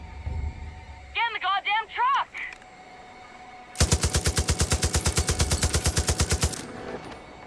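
Rapid automatic gunfire in Far Cry 5: a sustained, loud burst of evenly spaced shots lasting nearly three seconds, after a short series of warbling electronic tones.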